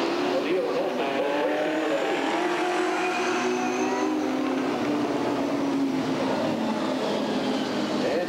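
Super stock race cars racing at Redwood Acres Raceway in a trophy dash, a continuous roar of engines rising and falling as the pack circles, with an announcer talking over it.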